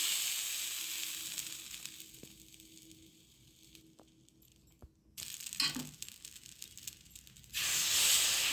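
Water sprinkled onto a hot pan while making dosa hisses and sizzles in loud bursts, easing into a quieter hiss before a strong fresh burst of sizzling at the end.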